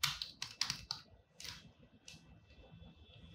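Quick bursts of typing on a computer keyboard, a few clustered key clicks followed by pauses and a couple more short runs, close and fairly quiet.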